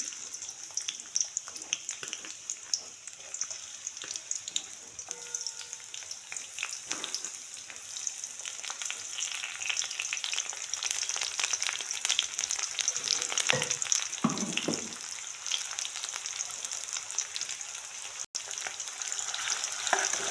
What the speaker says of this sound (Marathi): मी एक कांदा कट करून घेतला बारीक कोथिंबीर कढीपत्ता हे आता फ्राय करून घेते